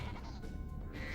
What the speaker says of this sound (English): I Super Flamed a sheep!